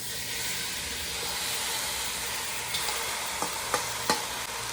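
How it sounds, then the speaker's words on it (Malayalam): Carrots and beaten rice (aval) are stirred in a frying pan for aval upma. A steady sizzle and hiss carries throughout, and a few sharp scraping clicks of the spoon come near the end. No one talks. "നമ്മളിതൊന്ന് നന്നായിട്ടൊന്ന് ഇളക്കി കൊടുക്കണം."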